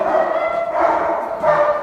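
A dog, held back on a lead outdoors in the dark, gives a couple of barks that run together with steady background noise.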